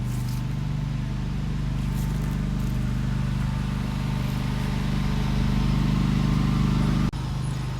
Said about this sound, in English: you're listening to this to the tune of Tom's lawn tractor in the background as he puts down fertilizer